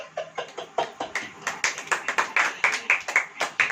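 A congregation claps in a steady, quickening rhythm during a Hindi church sermon, sharp hand claps building louder over several seconds with no talking over them.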